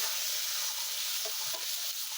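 Garlic paste sputters in hot oil over the spiced onion paste, giving a dense, even sizzle close up with a couple of soft stirring scrapes, no one speaking.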